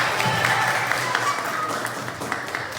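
Applause from a small audience, likely students, for a participant who answered a question and won a prize, steady dense clapping filling the whole stretch at moderate loudness.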